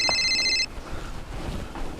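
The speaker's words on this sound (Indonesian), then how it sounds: "Tunggu, ada aku telepon masuk." An incoming-call ringtone trills with a bright electronic tone for about half a second, then stops and leaves a murmur of background noise.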